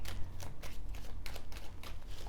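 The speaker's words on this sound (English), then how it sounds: "Last shuffle." Tarot cards shuffled by hand in a quick, steady riffle of soft papery flicks and slaps, close and alone over a low background hum.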